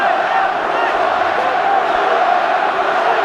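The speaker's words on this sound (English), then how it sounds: "Who are you, says the crowd." A football crowd at a Wellington Phoenix versus Newcastle Jets match chants loudly and steadily in unison, a massed stadium roar with no breaks.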